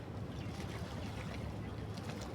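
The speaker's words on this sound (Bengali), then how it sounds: "দেখেন ব্রিজের নিচ থেকে একটা ট্রলার বের হচ্ছে" A sand-carrying trawler boat comes out from under a bridge, heard as a faint, steady low engine drone with a soft wash of water, somewhat distant.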